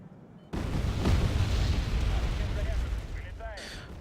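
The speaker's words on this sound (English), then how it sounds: "somebody is dropping some bombs now" Bombs exploding in the Wargame: AirLand Battle strategy game, a sudden heavy blast followed by a sustained rumbling roar of explosions that slowly fades.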